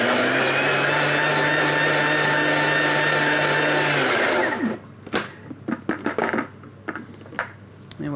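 An electric mixer whirs loudly and steadily through a cold starter of white asparagus and radish bavarois, running for about four seconds before cutting off, followed by scattered clinks and handling noises.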